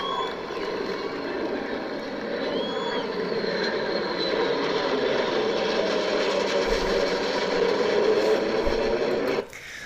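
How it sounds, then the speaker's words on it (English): A B-2 bomber flies over the Capitol during a 4th of July event, a steady broad jet roar that holds loud and even for nearly ten seconds before cutting off abruptly at the end. "a B-2 bomber flew over the Capitol."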